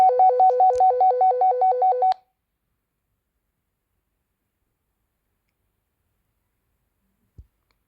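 A telephone is dialed to place a call, producing a quick run of about ten evenly spaced keypad tones over two seconds, then long silence broken by a single faint click near the end.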